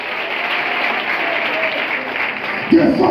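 A church congregation applauds and cheers in steady, dense clapping that fills the space, swelling briefly louder near the end.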